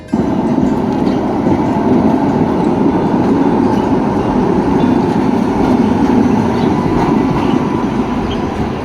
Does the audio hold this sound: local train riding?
yes